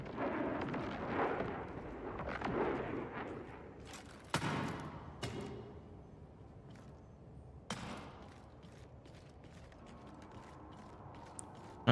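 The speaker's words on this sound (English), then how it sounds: "I hear some gunfire." Gunfire in the Marathon server slam test: several sharp, loud shots at scattered intervals, including a few distinct cracks, over a steady rumbling game ambience with no talking.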